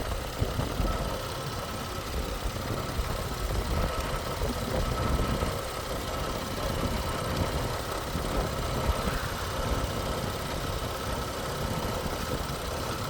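A cold car engine idles steadily at an auction lot, a continuous low rumble with a faint vibrating roughness that holds fairly even throughout, close to the microphone with no talking.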